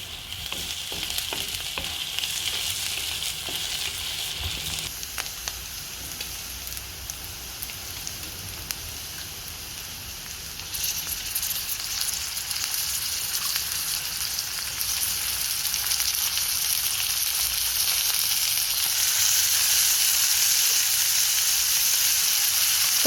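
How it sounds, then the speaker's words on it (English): Onions sizzle steadily in a hot pan for a kofta curry, a close, continuous crackle with occasional stirring scrapes, growing slightly louder and denser toward the end. "we're just frying off the onions, making sure they start to soften"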